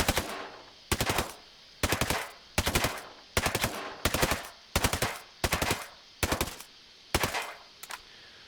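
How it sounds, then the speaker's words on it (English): Burst fire from an AUG Scout rifle in Ghost Recon Breakpoint, sharp evenly spaced multi-shot bursts repeating roughly once a second, loud and alone with no talking. "I'm going to go ahead and put on burst fire."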